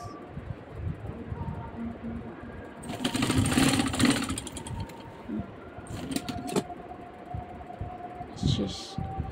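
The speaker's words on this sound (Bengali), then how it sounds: "এইভাবে হাতাটা সেলাই করবেন। এই হাতারও কিন্তু আপনি ডাবল সেলাই দিতে হবে।" A sewing machine stitches a kameez sleeve in a double seam, with a dense, rapid mechanical chatter in a loud burst near the middle and shorter runs later over a background hum.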